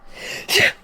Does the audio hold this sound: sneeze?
yes